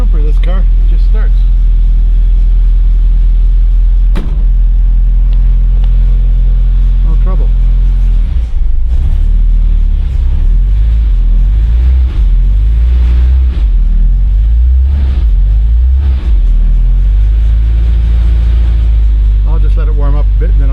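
A 1989 Dodge W100 pickup truck engine starts and settles into a steady low rumbling idle, loud and close, with someone speaking briefly over it.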